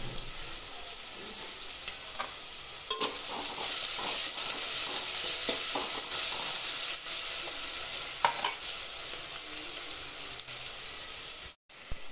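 Rice and bay leaf sizzle in a hot pan as they are stirred, a constant frying hiss broken by scraping clicks of the spoon, close and fairly loud.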